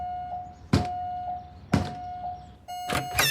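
Short high electronic chirps from a smoke detector with a low battery repeat at roughly one-second intervals over a faint steady tone, interrupted by three loud, heavy thuds.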